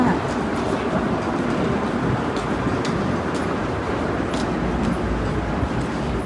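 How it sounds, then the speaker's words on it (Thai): A passenger train in Sweden rolls along, heard from inside the carriage as a steady, unbroken rumble and hiss with faint occasional clicks. "นั่งรถไฟไปอีก1ชั่วโมง15นาทีนะคะ"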